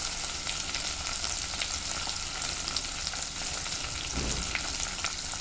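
Carrots and other vegetables fry in a pan for Andhra-style sambar, giving off a loud, continuous sizzling hiss with a brief stir near the end.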